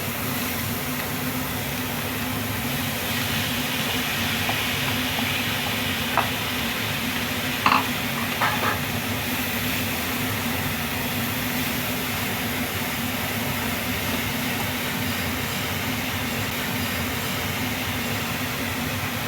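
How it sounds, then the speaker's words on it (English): Carrot, cabbage and capsicum stir-frying for veg paneer momo filling, a constant loud, even sizzle with a low steady hum beneath and a couple of brief utensil clinks midway. "We'll mix carrot, cabbage, capsicum and fry."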